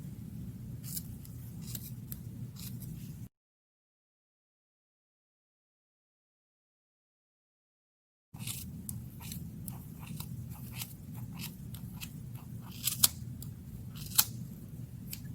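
Repeated crisp snips of dull scissors cutting through a yarn pom-pom, irregular and close, with a silent gap partway through.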